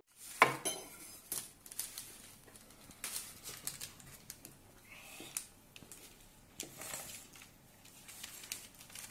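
Materials mixed thoroughly by hand in a container for a DIY hand print craft, giving faint, irregular scraping and clinking strokes with quiet gaps between them.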